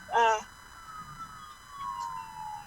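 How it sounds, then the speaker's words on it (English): An ambulance siren on the road behind a speaker: a faint, drawn-out wail gliding slowly downward across the clip, preceded by a brief louder chirping burst, with a voice talking quietly in the background. "You can hear I'm on the road. I have an ambulance here behind me"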